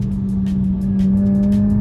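Mazda RX-8 with a Wankel rotary engine driving, a steady loud near engine drone with a strong low hum and slight rise in intensity midway, no talk.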